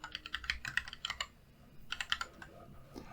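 Typing a compile command on a computer keyboard: two quick bursts of crisp, close key clicks separated by a short pause, with no talking.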